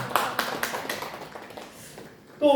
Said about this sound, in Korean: 추운데 박수 한번 할까요?